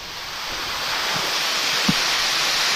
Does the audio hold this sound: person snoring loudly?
no